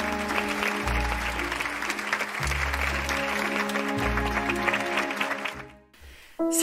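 A crowd claps and cheers loudly and continuously, a steady wash of applause with music-like tones underneath, fading briefly near the end before resuming.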